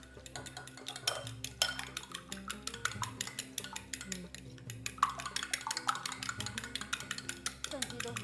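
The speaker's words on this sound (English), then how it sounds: "Whisk together with a fork." A fork clinks rapidly against a bowl, beating egg yolk with a tablespoon of milk in a steady rhythm of close, bright taps, with faint kitchen background and some soft speech-like sound underneath.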